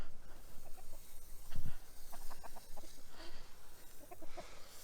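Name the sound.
chickens clucking on the grass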